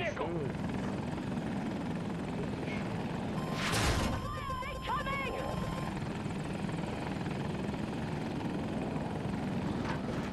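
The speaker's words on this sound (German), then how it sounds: "Noch ein Heli, glaube ich." A video game helicopter's rotor whirs continuously through a battle on the Discarded map, loud and steady, while players' voices talk over it and a few sharp effects cut in near the middle.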